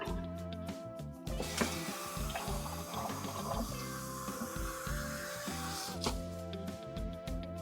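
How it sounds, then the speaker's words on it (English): Running tap water pours steadily into a pot to cover pork for boiling chashu, a continuous close rushing fill with some clatter at the start and end. "we're going to add enough water to cover the whole thing of pork"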